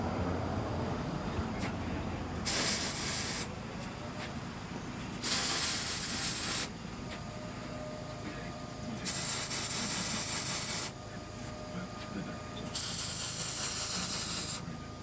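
A BBQ grill smoker is spray painted in four separate bursts, each a loud hissing spray lasting about one to two seconds, with quieter stretches of background between them.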